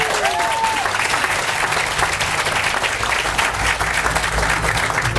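An audience applauds VA Connecticut hospital staff at a Fisher House groundbreaking in West Haven, with steady, dense clapping from a sizable crowd that carries on without a break.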